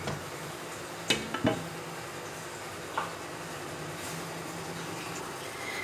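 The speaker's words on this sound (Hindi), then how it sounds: "मिक्स करेंगे और पकने के लिए छोड़ देंगे।" Khichdi of rice and two lentils is stirred in a cooking pot, with a few sharp metallic clinks of the spoon against the rim over a quiet, steady background hiss.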